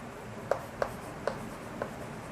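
Chalk or marker writing on a board during a chemistry lesson, four short distinct taps and strokes spaced about half a second apart, faint against quiet room tone.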